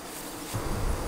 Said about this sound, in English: Let me show you some other cases of bearding.